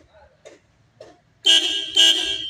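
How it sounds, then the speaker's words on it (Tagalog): The horn of an Isuzu 4HF1 truck is tested in two loud, close blasts, the second following quickly after the first. Faint clicks and fiddling come before the blasts. "meron na guys. Meron na busina."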